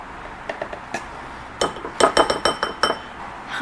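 An old cornstarch container being handled in a kitchen, with a few light clinks followed by a quick run of sharper rattling taps, close and fairly loud, and no talk.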